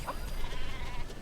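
A goat bleats in Metal Gear Solid V: The Phantom Pain, a wavering nasal call that is loud and close, heard alone with a brief second bleat near the start.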